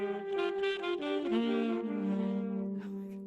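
Saxophone plays a slow ballad phrase through a delay pedal set far too loud, so repeating echoes pile up and smear the held notes into a dense, overlapping wash at moderate volume.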